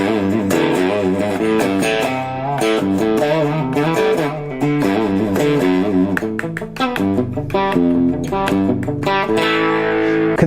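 A smart guitar with a harsh built-in amp tone plays continuously, its buzzy, heavily distorted chords and notes loud and upfront, with no one talking.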